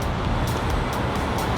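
Sleeper bus passes on a road with a steady, broad roadway roar at moderate distance, heard only briefly.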